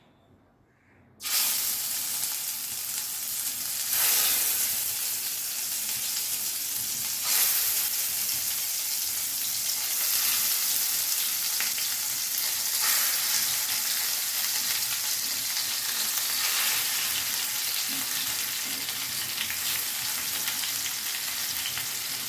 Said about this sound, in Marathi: आता तेल चांगलं गरम झालं आहे, आता कढईत मी ही वांगी सोडते।